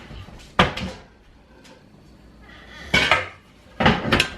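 Kitchen rummaging while hunting for a colander: three loud clattering bursts of cupboard doors, pots and dishes being shifted, separated by quieter pauses, close by and with no talking.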